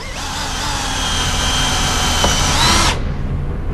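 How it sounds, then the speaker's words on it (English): A power drill bores a hole in the body of an Airstream trailer while wrap protectors are installed. It gives a loud, steady, high whine for about three seconds and then stops abruptly. "when I drill this, I'm going to control that drill bit right in there"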